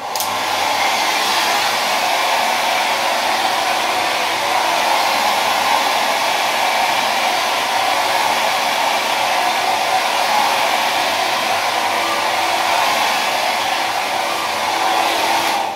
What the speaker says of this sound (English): I will blow dry with this comb